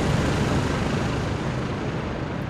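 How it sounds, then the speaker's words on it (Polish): A loud, steady rotor roar and broadband rumble fill the whole clip, a helicopter drawing close in Call of Duty: Modern Warfare 2. "Zbliża się śmigłowiec."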